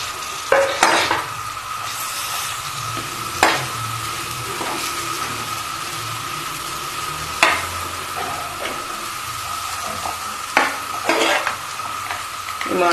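Potato and chickpea samosa stuffing frying in a pan with a steady sizzle, broken by several sharp scrapes and clinks of a spoon stirring against the pot, without talk.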